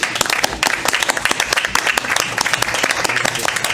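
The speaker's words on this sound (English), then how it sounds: "I think these guys deserve a big round of applause." A room of people at a Board of Education meeting in Enfield, Connecticut gives a round of applause, steady dense clapping with sharp individual claps standing out, fairly close and continuous.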